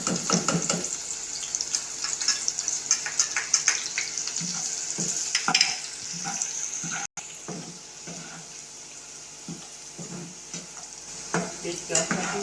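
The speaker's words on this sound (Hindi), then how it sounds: "तेल अच्छी तरीके से गर्म हो चुका है। अब इसमें हम डालेंगे प्याज।" Onions dropped into hot oil in a pan for fish curry: a soft, steady sizzle with intermittent stirring clatter, fairly quiet and close.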